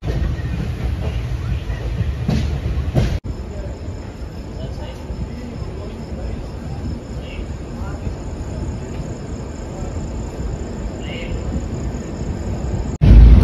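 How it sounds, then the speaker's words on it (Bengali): The Duronto Express (22201, Sealdah to Puri) pulls into platform 5 at Bhubaneswar station, heard as a steady, dense rolling rumble with a faint high whine. Abrupt cuts interrupt it near the start and end. "ট্রেন ঢুকলো"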